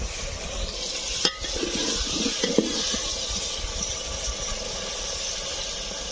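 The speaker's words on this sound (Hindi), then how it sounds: "अब इसके अंदर हम पानी डालते हैं" Water poured into a pan of potato curry with sizzling tempering, a brief splash and hiss followed by steady frying and bubbling, with a few clinks of a utensil.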